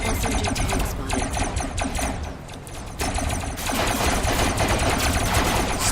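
Rapid automatic fire from an SMG tank in the video game Robocraft, a dense continuous stream of shots that briefly thins mid-clip before resuming at full loudness.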